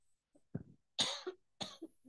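A person clears their throat, irritated by air pollution, in a few rough, raspy bursts, close and fairly quiet, with brief pauses between them.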